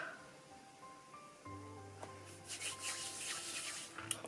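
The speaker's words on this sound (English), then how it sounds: "what I like to do is just rub it all in" A lip product is rubbed into the lips with a soft, faint rubbing and brushing friction that swells briefly near the end, heard very close and quiet.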